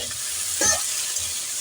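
Taro stolons crackle and sizzle steadily in a pan over low flame while a utensil gives a short scraping stir partway through, near and with no talking.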